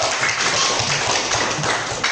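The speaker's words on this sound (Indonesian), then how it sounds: "Oke, tepuk tangan dulu." A classroom of students in a coding and artificial intelligence lesson claps together, a brief burst of fairly steady, close-sounding applause with light tapping.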